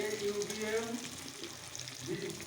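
Meat being cooked with spices sizzles softly and steadily in a pan, a faint continuous frying hiss with some low background noise.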